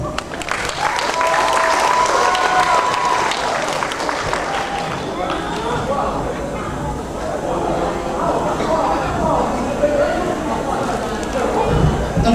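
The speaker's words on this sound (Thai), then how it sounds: "ขอเสียงปรบมือให้คุณปราโมทหน่อยค่ะ" A seated audience gives sustained applause as a guest is invited onto the stage at a show, clapping and crowd noise running continuously at a fairly loud level, with voices mixed in.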